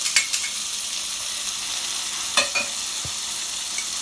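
Sweet peppers and scallions sizzle in a hot pan for saltfish buljol, a steady frying hiss broken by a few sharp clicks and scrapes as the vegetables are tossed and stirred.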